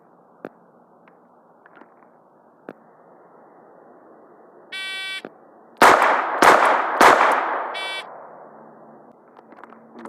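Three sharp, loud snub-nosed revolver shots fired in quick succession at a seven-yard shooting drill, with a shot timer's beep before them and a reverberant echo fading after the last.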